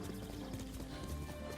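Horse hooves clip-clop in a quick, steady rhythm in Ghost of Tsushima, set in feudal Japan, close and moderately loud, with a brief whinny mixed in and no talking.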